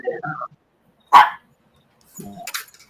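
A dog gives a single sharp, loud bark, preceded and followed by quieter yelps or whimpers, close by in an otherwise quiet setting.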